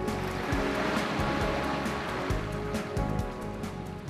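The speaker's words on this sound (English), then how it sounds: "the sound of the waves relaxes the mind" Ocean waves on the shore by the sea near a steam sand bath facility, with repeated surges of surf breaking and washing over a constant roar, fairly close and with no voices.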